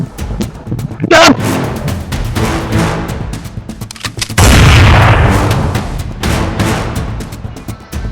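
Gunfire in a Malayalam crime drama serial: a sharp loud crack near the start, then a heavy booming burst midway, with shouting voices and commotion throughout.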